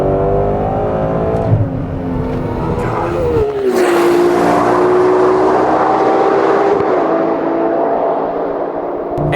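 Ferrari 812 V12 engine revving hard while driving on narrow, twisty backcountry roads, a loud sustained roar with rising and falling pitch, close and continuous with no talking.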